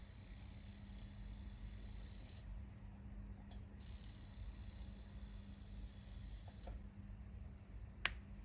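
A 3D-printed Inkclaw Passion tattoo pen motor, newly fitted with its cam wheel, runs on a power-on test, giving a steady low buzzing hum throughout with a few faint ticks and one sharp click near the end.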